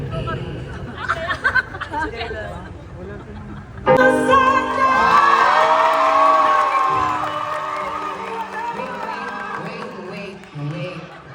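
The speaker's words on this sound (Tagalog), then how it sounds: "Kung sino yung gusto nyo, papalakpak na may kasamang sigawan." An audience claps and shouts its approval, starting with scattered sounds and voices before a loud burst of cheering and whooping breaks out and carries on, gradually easing off near the end.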